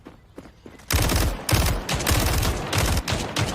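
Enemy gunfire in the video game SCP 5k: a few quiet distant shots, then loud, dense bursts of rapid automatic fire that roll on almost without pause.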